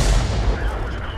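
Tank cannon fire in a World of Tanks–style game match from an M6 heavy tank engagement: a loud, dense, booming blast with rumbling low-end tail filling the short moment, with no talk over it.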